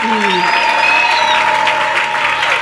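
A church congregation applauds and cheers during a worship service in response to a call to acclaim the Lord, a loud, steady wash of clapping and voices that fills the whole clip, with a sustained tone ringing underneath.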